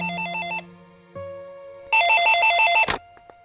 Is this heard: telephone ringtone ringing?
yes